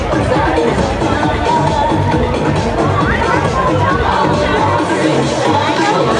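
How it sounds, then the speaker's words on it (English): Audience at a Jersey Show fashion show in a bar cheering and clapping for models on the runway, a dense, steady crowd roar with babble and shouts throughout. "let's have a big round of applause for our models"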